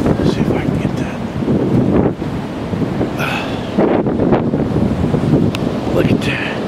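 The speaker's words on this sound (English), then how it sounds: "Can you hear the wind?" Strong wind during a Chicago blizzard roars and buffets the microphone in loud, continuous gusts, with brief lulls and bursts of rushing noise throughout.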